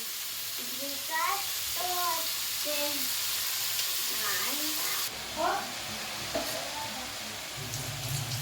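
Food frying in a pan, a low, steady sizzle under a person talking throughout, with a few stirring knocks toward the end.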